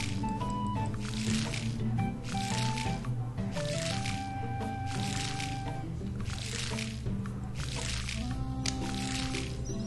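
Watering can splashing water over a seed field in the farming game Harvest Moon: The Winds of Anthos, soft repeated squishy splashes beneath steady cheerful game music.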